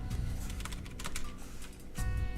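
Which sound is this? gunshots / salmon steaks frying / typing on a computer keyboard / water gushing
typing on a computer keyboard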